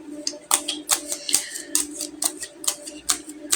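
A deck of tarot cards being drawn and handled: a quick, crisp series of sharp slaps and flicks close by, falling in an uneven rhythm.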